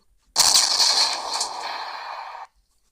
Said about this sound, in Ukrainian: Та зараз будемо стріляти.